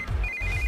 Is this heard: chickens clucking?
no